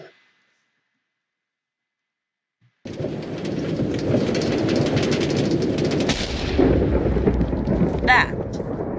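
Thunderstorm in the Minecraft video game: near-silence for about three seconds, then heavy rain roars in, loud and steady, with rumbling thunder rolling beneath it.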